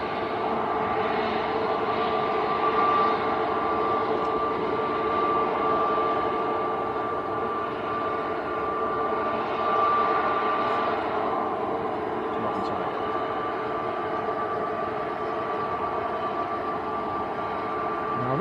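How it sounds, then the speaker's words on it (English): An Airbus A330 airliner at Manchester Airport makes a steady, broad jet roar with a sustained engine whine, heard from a distance under continuous noise. "Now this A330 should pop into sight any second."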